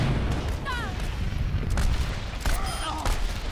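Overwatch match gunfire with a steady stream of shots and booming impacts, dense and loud, with a voice talking over it.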